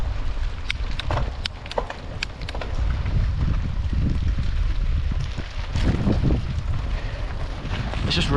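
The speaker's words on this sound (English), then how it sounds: "And the wind is just so loud as well at this." Strong gusty wind and rain buffet the microphone while riding a gravel bike across Salisbury Plain in a freezing cross headwind, a loud continuous roar with scattered sharp taps and rattles.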